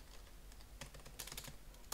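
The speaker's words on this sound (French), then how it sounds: "J'ai appuyé sur entrée du pavé numérique de mon clavier." Keys on a computer keyboard are pressed at a low level, a few faint separate clicks followed by a quick cluster of taps toward the end, over a quiet room hum with no talking.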